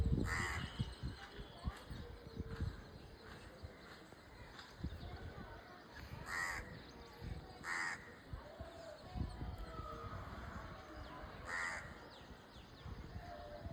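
Crows caw repeatedly in short harsh calls, some near and some farther off, over a busy outdoor background while a person talks intermittently.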